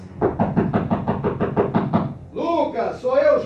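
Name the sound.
knocking on a door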